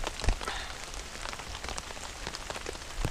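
Steady rain pattering on a campsite during a thunderstorm, a dense, even hiss of drops with a few sharper nearby splats, no voices.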